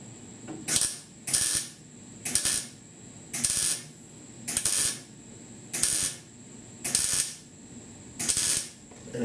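Sheet metal A/C vent pods for a custom dash in a 1966 Ford F100 are being welded in a series of about eight short, evenly spaced crackling bursts, each lasting under a second with brief quiet gaps between, close and without speech.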